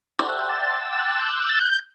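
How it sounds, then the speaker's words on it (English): A synthesized soundscape that turns a visual image into sound, with pitch standing for vertical position and time for horizontal sweep: a dense cluster of steady electronic tones rising slightly in pitch, holding for under two seconds and then stopping. "We took these visual images and transformed them into soundscapes."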